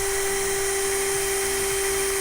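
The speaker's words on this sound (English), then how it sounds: "we're just going to re-drill the hole next to it" Power drill re-drilling a hole in a boat's fiberglass while installing a windshield, a steady high whine running continuously and loudly throughout.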